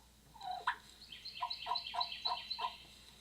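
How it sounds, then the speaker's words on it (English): A wild turkey gives soft purrs and quiet clucking notes, a short series of faint, rolling calls in a steady rhythm against a near-silent outdoor background. "Just soft talk, just purring."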